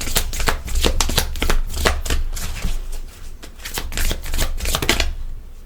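Tarot cards shuffled by hand for a reading, a rapid series of crisp riffling bursts and soft slaps, close and clear, with no talk.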